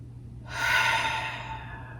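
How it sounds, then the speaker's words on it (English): A single slow, deep breath taken during a calm yin yoga session, a soft airy rush swelling and fading over about a second and a half against a low steady hum, close and alone without talk. "Let's take a breath."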